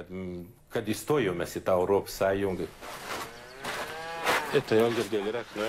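Cattle moo repeatedly on a farm in Lithuania, several long, loud, close bellows with short gaps between them, and people talk in the background.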